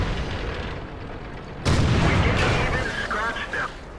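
Tank gun firing from an M24 Chaffee light tank in World of Tanks on the Malinovka map: one loud, sudden boom with a rumbling tail and clattering afterward, mixed with game effects, and someone talking.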